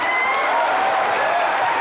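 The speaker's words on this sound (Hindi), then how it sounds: "जोरदार तालियां हो जाए" Dense, steady applause from a television comedy show studio audience, loud and continuous throughout with a faint whistle or cheer riding over the clapping.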